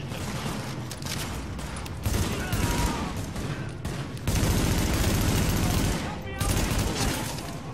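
Enemy automatic gunfire in Tom Clancy's The Division, loud dense bursts of rapid shots in several rolling waves, with brief lulls between volleys and a voice talking during the shooting.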